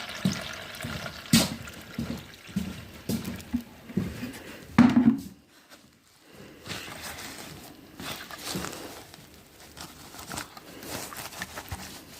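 Bordeaux mixture made for strawberry plants is strained into a bucket, producing close pouring and trickling with irregular splashy surges, a brief lull midway, then softer dribbling.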